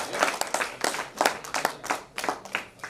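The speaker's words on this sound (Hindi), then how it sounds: "तालियों की गड़गड़ाहट के साथ उसका स्वागत कीजिए" An audience at a Hindi poetry recital applauding to welcome a poet, uneven waves of clapping from a modest crowd, rising and falling in bursts across the clip.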